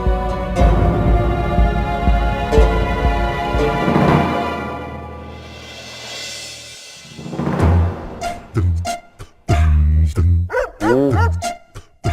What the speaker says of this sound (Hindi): ये तू कुत्ता किराए पर लेकर आया है, ये खूंखार है ना?